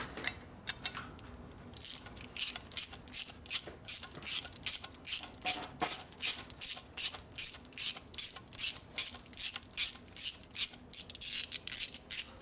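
A screw is worked out of a 1967 Harley-Davidson 74ci shovelhead transmission with a ratcheting hand tool, producing a steady run of about twenty crisp, evenly spaced metallic clicks, close up and clear, with no talk.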